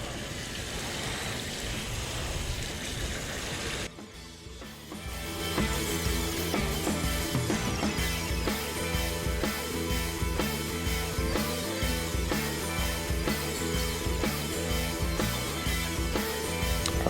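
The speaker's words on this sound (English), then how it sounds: "Let's go ahead and get this thing rinsed off here." Water rinses off the engine bay of a Mini R56, a broad continuous spraying hiss. It dips briefly after a few seconds, then carries on steady and close for the rest.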